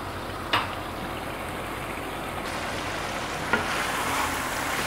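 Chicken karahi cooking in a pan on medium-low heat, a steady close sizzle and hiss with two brief clinks of a utensil, no talking.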